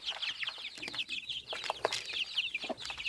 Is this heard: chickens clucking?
yes